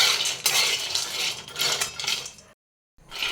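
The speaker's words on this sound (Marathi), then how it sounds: "आता हे शेंगदाणे असे सतत एकसारखे हलवत राहून मध्यम गॅसवर खमंग भाजून घ्यायचे आहेत" Peeled peanuts dry-roasting in a pan over medium gas, a dense rattling rustle of nuts tumbling against metal as they are stirred continuously, pausing briefly before resuming.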